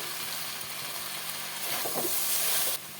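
Chopped ridge gourd and vegetables with mustard paste, green chilli paste and turmeric sauté in a pan with a soft, quiet sizzle and a few stirring scrapes swelling briefly toward the end.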